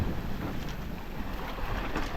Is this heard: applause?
no